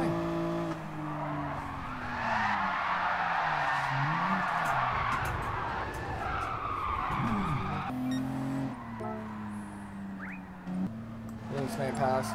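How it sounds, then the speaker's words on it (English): Tires skid and squeal under a revving engine as a 550hp Nissan 300ZX drifts in GT Sport on a wheel controller, a continuous loud slide with shifting engine pitch while a voice talks over it. "Oh, Pedro, we're drifting."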